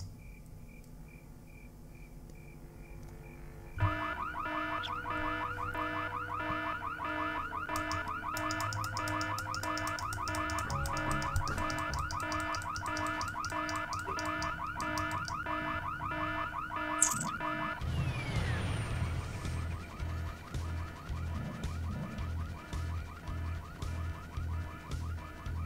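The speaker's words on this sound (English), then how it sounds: "what we're going to do is that we're going to trigger an alarm." An alarm triggered at the gas tower in the video game Full Throttle Remastered rings as a loud, rapid pulsing electronic tone, cuts off abruptly, and is followed by rhythmic clanking and chirping game ambience.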